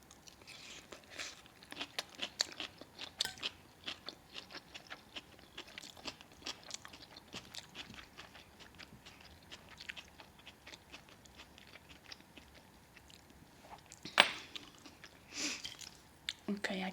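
Crunchy pasta salad with pepper and green jalapeno chewed close to the mic, giving a steady run of soft crunches and mouth sounds at low level, with a sharper crunch near the end.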